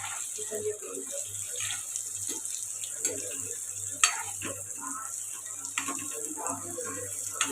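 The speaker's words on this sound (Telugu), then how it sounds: "ఇప్పుడు ముందుగా కలిపి పెట్టుకున్న పన్నీర్ పీసెస్ అయితే ఫ్రై చేసుకోవాలి" Marinated paneer pieces frying in hot oil for a paneer masala curry, a soft continuous sizzle with faint crackles and an occasional sharper pop, moderately close.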